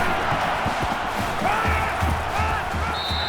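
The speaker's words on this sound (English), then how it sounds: "this crowd is going absolutely crazy" Steady roar of a stadium crowd in an NCAA 14 college football game, Rutgers at Ohio State, with tonal game sounds sitting on top of the noise and no voices.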